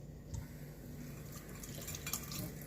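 Running tap water rinses a mango, a soft, steady hiss of flowing water with faint splashes and drips throughout, quiet and close, with no voices.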